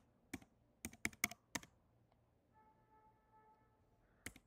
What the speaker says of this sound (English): So now what I'm gonna do is I'm just gonna go and type